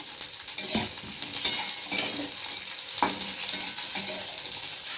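Cashews frying in ghee for basanti pulao, a steady close sizzle broken by occasional stirring scrapes and light clinks of a utensil in the pan, with no talking.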